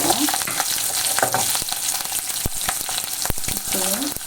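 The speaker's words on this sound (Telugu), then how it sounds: "ఆవాలు చిటపట ఉంటున్నాయి" Mustard seeds, curry leaves and green chillies sizzle in hot oil, a loud dense crackle with sharp popping seeds and scattered clicks of stirring, close by with no talk.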